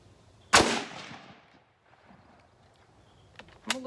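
A single sharp rifle shot from a Yugoslav M.24/47 Mauser firing 8x57 ammunition at an outdoor range cracks loud and close, trails off in a decaying echo, and a short mechanical clack follows near the end.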